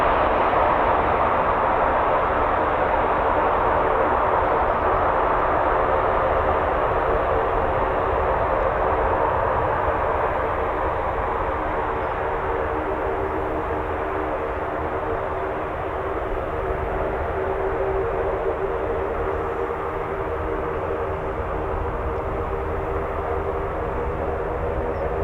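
A visiting aircraft at RAF Coningsby produces a loud, steady engine roar that drones on without a break for the whole stretch, holding a broad, constant tone.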